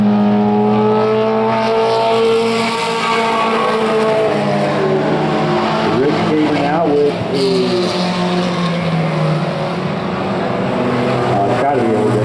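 Pro 4 trucks race around Evergreen Speedway. Several engines drone loudly and continuously, with pitches sliding up and down as they pass, under a race announcer's steady commentary.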